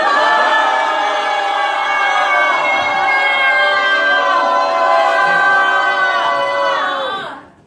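A large crowd at an outdoor rally cheers and shouts continuously while waving Korean flags, a dense, loud roar that holds steady for several seconds and then cuts off abruptly at the end.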